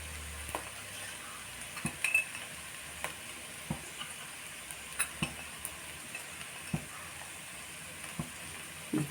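Coriander and chili powders with mandi masala fry in a pan for vegetable masala rice, a soft low sizzle broken by intermittent light scrapes and taps of a spoon stirring, fairly quiet and without speech.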